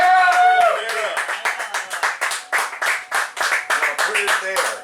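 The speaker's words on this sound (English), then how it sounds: "Give him a round of applause, ladies and gentlemen." Audience clapping for comedian Michael O'Meara at a live comedy show, a steady patter of hands close by with a voice calling out over the start of the applause.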